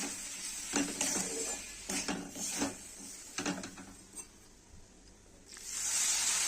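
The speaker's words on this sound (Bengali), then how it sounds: "জল দিয়ে আস্তে আস্তে আমি ভাজবো।" Semolina with nuts fries in a pan with a little added water, heard as close, irregular scraping and knocking while it is stirred, with a soft sizzle swelling at the end.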